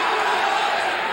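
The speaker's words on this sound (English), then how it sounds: "the crowd chanting USA again for Dan Severn against the Brazilian Royce Gracie" Arena crowd at the 1994 UFC 4 mixed martial arts event roars and chants USA for Dan Severn against Royce Gracie, a dense continuous wash of many voices, with speech over it.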